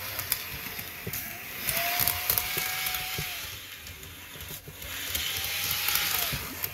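A quiet Bachmann HO scale model locomotive runs along track with a soft mechanical whir and faint clicking, punctuated by light ticks and rising, falling tones as it moves.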